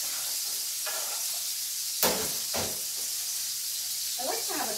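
A salmon fillet pan-seared in a frying pan gives a steady, gentle hiss and sizzle. A few louder spits and clinks break through now and then.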